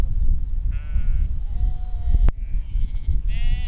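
Sheep and lambs bleat on a livestock farm: several clear, wavering calls of different pitches come one after another over a steady rumbling background, close and fairly loud.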